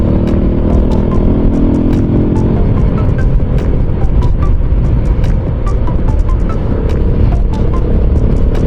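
Loud motorcycle exhausts roar steadily along Zapote River Drive amid dense road traffic, with engines revving and bikes passing close by, continuous and without talk.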